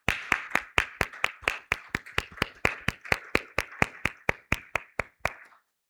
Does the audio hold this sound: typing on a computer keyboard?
no